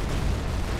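An explosion in the real-time strategy video game Supreme Commander 2 is a brief, loud, low-pitched booming rumble that fills the whole short moment.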